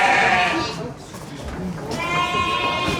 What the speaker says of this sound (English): Damara sheep.